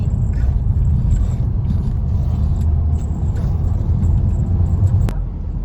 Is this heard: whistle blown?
no